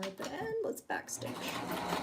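Sewing machine backstitching lingerie fabric: a short burst of close, rapid mechanical stitching mixed with a voice.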